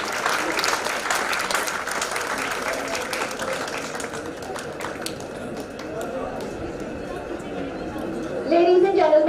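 Applause from an audience at an international management conference award ceremony: steady, fairly full clapping that thins out toward the end, with some chatter and a brief louder sound at the close.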